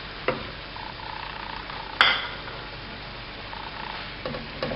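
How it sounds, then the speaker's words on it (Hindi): Minced keema fries in oil with spices, a soft steady sizzle broken by scattered spoon scrapes and one sharp clank near the middle, with no voices. "मसालों के साथ कीमे को ऑयल में भूनेंगे"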